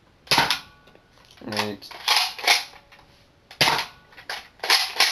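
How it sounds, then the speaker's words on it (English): A Buzz Bee Jaguar toy blaster fires foam darts in several sharp, close pops with mechanical clatter between shots. A short spoken word comes partway through. "You can see that the darts are shooting rather well."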